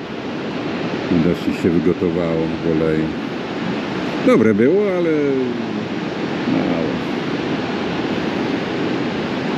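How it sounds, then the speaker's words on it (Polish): Ocean surf breaking at Haystack Rock in Seaside, Oregon, a continuous broad wash of crashing waves filling the background while people talk over it close by. "No fajnie, tu się fale rozbijają"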